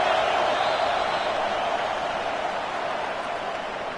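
Stadium crowd in the college football game NCAA 25, a dense, roaring wall of cheering that holds steady and fades slightly, heard without clear speech on top.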